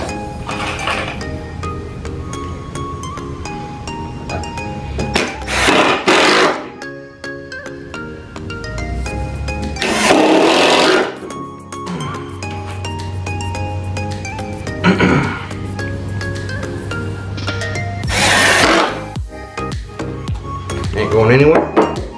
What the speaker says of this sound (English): And I'm just going to attach the floor flange